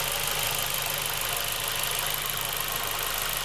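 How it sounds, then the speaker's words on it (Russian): A warmed-up Ford Focus 2 engine idles in a steady, even hum with a faint rapid pulse underneath, close and constant without any talk. "Так, мотор прогрелся."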